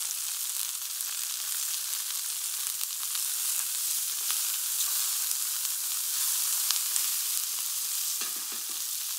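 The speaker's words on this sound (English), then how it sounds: "Add the vegetables and let caramelize slightly." Turkey bones and vegetables sizzle and caramelize in a pan with a steady, close, hissing fry broken by a few faint pops and stirring clicks.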